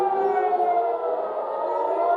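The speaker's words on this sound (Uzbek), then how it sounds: "Bu sirenalar ovozi eshitildi degani bu raketalar kelyapti degani." A loud, steady wailing air raid siren holds a sustained layered tone throughout during a missile attack on Israel, with no pause or voices.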